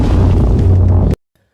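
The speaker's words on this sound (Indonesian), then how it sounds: "sebuah ledakan dari pom bensin yang letaknya tak jauh dari sekolah" A loud, deep rumbling blast from a gas station explosion roars for about a second, then cuts off abruptly into silence.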